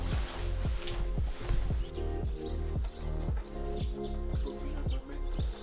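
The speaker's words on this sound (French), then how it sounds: "Il y a des oiseaux qui chantent." Birds sing outdoors in Sweden on a cold, sunny day, with repeated chirps and short calls standing out over a continuous low background of rhythmic ticks and noise.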